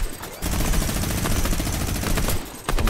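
Rapid, loud gunfire from a shooter video game, a dense sustained burst of automatic shots lasting over two seconds with a brief break just before the end, and no voices.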